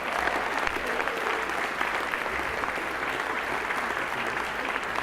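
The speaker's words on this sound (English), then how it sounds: "Let's give him applause before he even gets up on that one right there." Steady audience applause at the 2017 Rimington Trophy banquet, dense and even clapping from a large indoor crowd throughout, with no talk over it.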